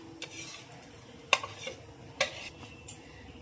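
Split mung lentils go into a pan of fried spices with grated ginger, a soft stir and faint sizzle broken by several sharp clinks of a metal spoon against the pot, close and fairly quiet.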